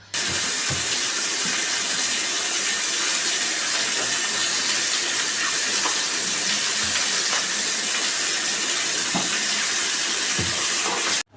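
Water gushes steadily from a tap on a kitchen balcony, a loud, continuous broadband rush that runs unbroken for about eleven seconds with no voices.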